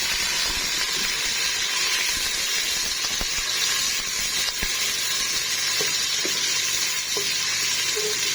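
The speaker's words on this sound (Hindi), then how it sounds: "इसमें अब डाल देते हैं प्याज।" Onions drop into hot ghee in a pressure cooker and fry with a loud, continuous sizzle and hiss, broken by a few faint spoon taps, close and unbroken.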